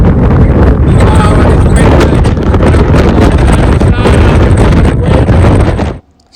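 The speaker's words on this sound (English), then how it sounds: "It's windy!" Strong wind batters the microphone at Scotland's most southerly headland, a loud, continuous roaring buffet that cuts off abruptly near the end.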